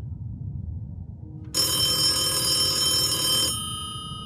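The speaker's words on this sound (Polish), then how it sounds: "Telefon stacjonarny." A landline telephone rings in one continuous electronic burst about two seconds long, loud and close, starting abruptly from near silence and stopping sharply.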